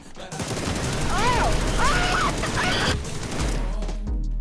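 Video game gunfire sounds in rapid bursts while the weapon is fired from the hip. The shots are loud and close against continuous in-game noise, with brief chirpy sound effects mixed in.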